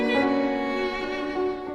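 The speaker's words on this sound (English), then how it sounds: "This is the sound of a 300-year-old violin." A 300-year-old antique violin, a rare instrument, plays a sustained bowed note with rich, bright harmonics, close and steady for nearly two seconds with no talking.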